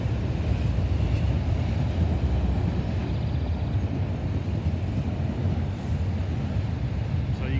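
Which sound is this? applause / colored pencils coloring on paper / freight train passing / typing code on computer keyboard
freight train passing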